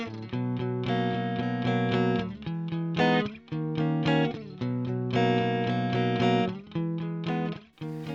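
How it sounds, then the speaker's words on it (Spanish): Distorted electric guitar with almost no reverb, a raw, dry tone for post-punk or darkwave playing sustained chords in bursts, loud and alone with brief gaps between phrases. "con muy poca reverberación el sonido se vuelve muy crudo"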